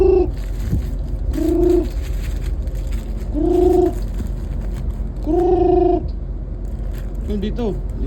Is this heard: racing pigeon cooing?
yes